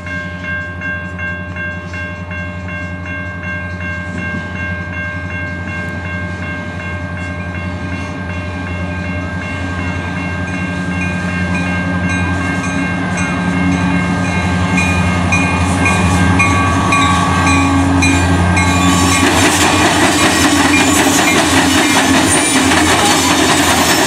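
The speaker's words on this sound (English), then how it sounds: "Here comes the train." A train passes close by in Griffith, a loud, steady rumble of rail cars with tonal horn-like hum that swells and grows harsher toward the end, with no talk.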